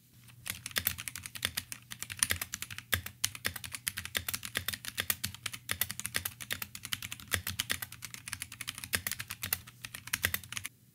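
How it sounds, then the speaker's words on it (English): Steady clacky typing on a Drop ENTR mechanical keyboard, a quick irregular patter of crisp keystrokes heard up close over a faint background hum. "The sound that comes out of this mechanical keyboard is it's deceptively tame in volume and presence."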